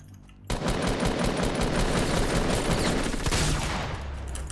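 Rapid automatic gunfire in a video game, a dense unbroken burst of loud shots that starts abruptly and runs for about four seconds before easing slightly.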